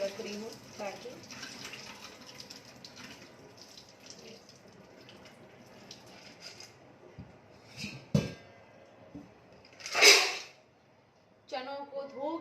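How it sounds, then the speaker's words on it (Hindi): Tap water runs softly while chickpeas are washed for soaking, with someone speaking through much of it, a louder splashing gush near the end, and a few light clinks. "कल के लिए चने भिगो के धो के रख रही हूँ"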